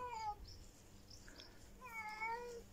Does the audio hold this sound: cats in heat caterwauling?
yes